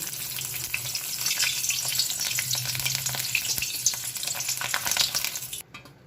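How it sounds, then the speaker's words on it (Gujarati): Green chillies for Mumbai-style vada pav crackle and bubble steadily while deep frying in oil, a dense hiss of sizzling that cuts off abruptly at the end. "એટલે આપણે મરચાં ફ્રાય કરવાના છે"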